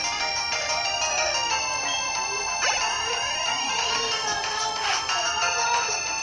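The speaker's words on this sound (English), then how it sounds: "Super phone, stop ringing." A phone rings in the Pokémon Diamond and Pearl video game with a bright, repeating electronic ringtone melody that plays continuously and fairly loudly, with no other sound over it.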